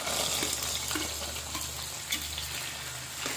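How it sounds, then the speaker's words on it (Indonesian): Cut potatoes fry in oil for Indonesian sambal goreng kentang, giving a continuous close sizzle and crackle with a low hum underneath. "Oke, sekarang saya siap untuk menggoreng kentang."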